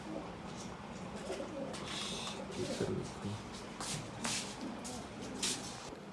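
Pigeons cooing softly in a loft while being hand-fed almonds one by one, low murmuring coos under steady background noise and a voice talking nearby.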